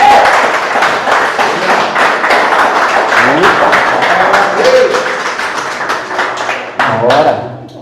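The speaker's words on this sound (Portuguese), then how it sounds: "Você pode dar um aplauso ao Senhor Jesus aí?" A church congregation claps for Jesus during a Portuguese-language service, with sharp, irregular claps running through the whole stretch and voices and a few tonal sounds mixed over them.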